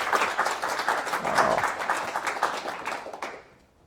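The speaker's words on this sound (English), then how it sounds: "Round of applause, Daniel." Audience applause at a tech meetup on IoT and artificial intelligence, a dense steady clatter of many hands that stays near and even, then tapers off quickly near the end.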